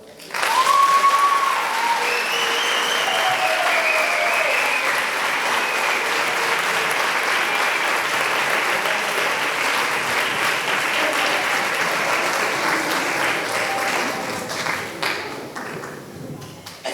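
A large audience gives loud, sustained applause to welcome presenters at a science club event in Bilbao, a steady roar of clapping with a few whoops that holds for many seconds before tapering off.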